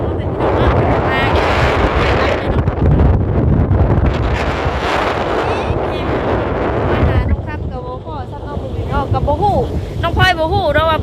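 Strong outdoor wind buffets the microphone in steady, heavy gusts, with someone talking over the blustery roar near the end.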